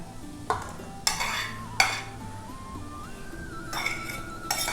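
Pork offal being stir-fried in a pan for Thai larb, with sharp metal utensil scrapes and clinks breaking through a steady low sizzle, several distinct strikes over a few seconds, close and fairly loud, no talking.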